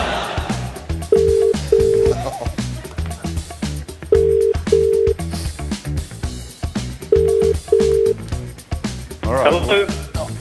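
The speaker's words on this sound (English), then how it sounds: "I'm ringing the chief once more" A telephone ringing tone sounds in repeated paired bursts during a live call on a TV football talk show, ringing three times over a bed of background music and studio noise.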